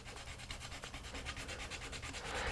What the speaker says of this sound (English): I'm just going to remove a little bit more of this putty with the sandpaper